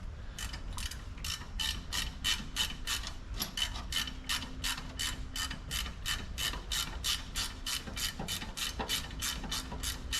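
Ratchet clicking steadily in a fast, even series of sharp ticks while loosening a nut on a minitruck leaf pack, close and continuous over a low mechanical hum.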